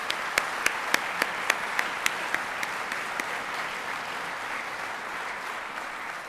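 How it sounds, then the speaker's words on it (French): Audience at an opera gala applauds, a dense steady wash of clapping with a few sharp individual claps standing out near the start, continuing throughout. "Donc on donnerait une main d'applaudissements pour tous ces membres qui nous soutiennent."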